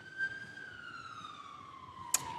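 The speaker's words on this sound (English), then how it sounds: "I can hear sirens behind you." Emergency vehicle siren in Bermuda during recovery from Hurricane Fiona, a steady, slowly falling wail heard at moderate distance, with a brief sharp click near the end.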